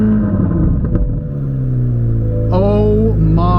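Loud, close engine sound from a Corvette C8 Z06 with a 670-horsepower flat-plane crank V8 mounted behind the cabin, a deep rumbling idle with rising revs and harmonic tones sweeping upward.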